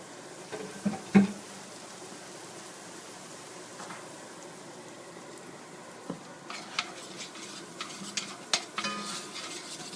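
Onions sauté in a pan with garlic and habaneros just added for beef chili, giving a soft, steady background sizzle. A louder clatter of stirring comes early, then scattered light scrapes and taps against the pan.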